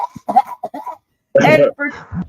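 A man onstage in a Santa Claus hat coughs and hacks into a microphone, with a short burst of throaty coughing, a pause, then a longer harsh hack; a voice mimics the sound.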